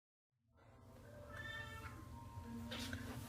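A Siamese cat in a litter box makes soft scratching and shuffling sounds, close and faint, rising after a moment of silence, with a brief higher cry near the end.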